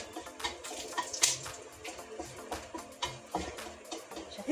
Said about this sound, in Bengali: এবার গরম তেলে শুকনো লঙ্কা, গোটা গরম মশলা আর তেজপাতা ফোড়ন দিয়ে দিলাম